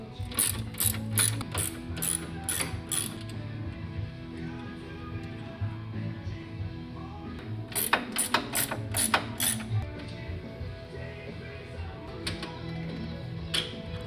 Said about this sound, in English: Loosen the upper shock bolts and save the hardware. Loosen the lower shock bolts and remove them.